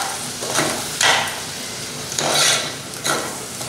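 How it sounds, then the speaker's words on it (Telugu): Tomato pieces are stirred into a field-bean vegetable curry in a pan, with four short scraping, sizzling sweeps at uneven intervals over a faint background hiss. "అంతా ఒకసారి బాగా కలుపుకుందాం."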